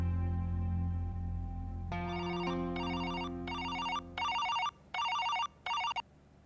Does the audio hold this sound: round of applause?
no